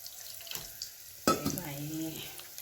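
A ground spice paste drops into vegetables sautéing in a pan for Maharashtrian bhogichi bhaji, a sudden close splat and hiss followed by steady sizzling, with no talking.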